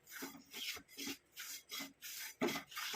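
Roasted amla powder and black cumin are stirred in a pan over low flame, producing a rhythmic series of soft, gritty scraping strokes, about six in quick succession, close and fairly quiet.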